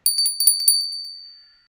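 A small bell rings rapidly several times in a quick trill, bright and close, then its tone fades away into silence.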